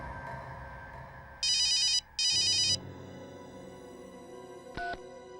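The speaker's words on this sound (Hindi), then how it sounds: "अभी 1 मिनट में फोन की रिंग बजेगी" A telephone rings in two loud electronic bursts over a low background hum of a tense indoor scene, followed by a brief beep near the end.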